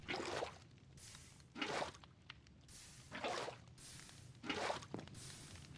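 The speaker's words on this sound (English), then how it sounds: "I can just pick the water bucket back up and put these out." Minecraft water bucket emptied onto burning campfires in a Bedrock survival world, with several soft splashing, pouring bursts recurring roughly every second or two over a steady low crackle.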